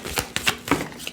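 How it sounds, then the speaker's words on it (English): Tarot cards are shuffled by hand in a few quick, crisp riffling bursts, close and fairly loud, with no talk. "So I'm trying to shuffle."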